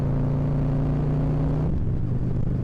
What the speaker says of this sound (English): This bike sounds good right now.